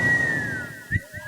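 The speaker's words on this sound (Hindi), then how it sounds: "साले सीटी बजा रहे हो" A person whistles during a Bhojpuri nautanki stage performance: one sustained, fairly clear note that drifts slightly lower in pitch, brief and close, followed by a few soft thumps.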